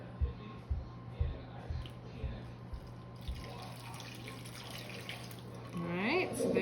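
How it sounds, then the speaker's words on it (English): Hot water, one cup of it, pours into a colourful homemade playdough mix with a steady liquid trickle and a few splashy drips, followed by a rising gurgle near the end, moderately close. "this is 1 cup of hot water. So we're gonna pour that in"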